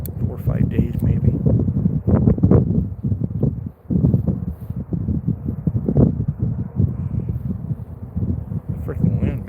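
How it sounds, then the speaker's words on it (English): Gusty wind buffets an outdoor microphone in loud, low rumbling bursts that run the whole time, with a brief lull midway. "Freaking wind, man."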